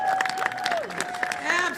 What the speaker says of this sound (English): So let's give another round of applause to Tom Skilling.